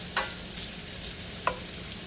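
Sausage searing in an enameled cast iron skillet gives a steady, quiet sizzle, broken by two brief stir or scrape sounds near the start and middle, with no voices.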